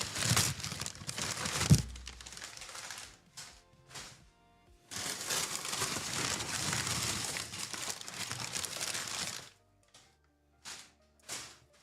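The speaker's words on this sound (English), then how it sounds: "who doesn't love the sound of like paper and unboxing?" Paper crinkles, rustles and tears in bursts while a King Kong pinball topper is unboxed, close up and fairly loud, with short pauses and a few taps between handfuls.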